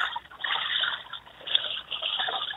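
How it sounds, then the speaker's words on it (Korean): A mountain valley stream in Gangwon-do flows continuously, a steady splashing, gurgling rush heard at close range with a narrow, phone-like tone. "지금 계곡의 물소리예요."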